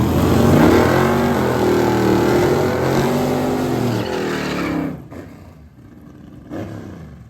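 Drag race cars launching in a bracket final at the 2024 No Name Nationals, loud engines roaring and revving together for about five seconds before dropping away into quieter rumble.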